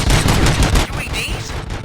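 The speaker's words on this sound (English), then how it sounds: "Gunshots? What's going on?" Dense, loud bursts of rapid gunfire in a RoboCop video game, rattling continuously for about a second and then dropping into an echoing, lower rumble.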